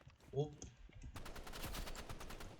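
Gunfire in the video game Rakipler, a burst of rapid shots crackling steadily over about two seconds after a brief voice, with faint talk mixed in.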